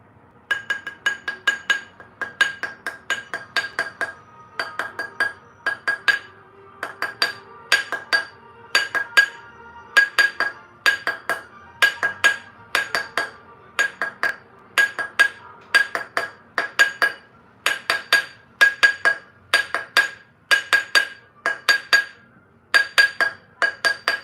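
Rawhide mallet hammering a gold ring on a steel triblet, producing a long run of steady, ringing metallic taps, bright and close, with brief pauses between bursts and no talking.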